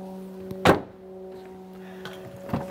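An aluminium frameless door on a Toyota GR Yaris shuts with one solid, close thunk, followed moments later by a fainter second knock over a low steady hum.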